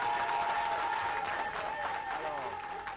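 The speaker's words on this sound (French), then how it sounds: "nous devons applaudir au chef de l'État." Audience applause in a crowded hall at a Francophone state event honouring the head of state, a steady wash of clapping throughout, moderately distant, with voices mixed in.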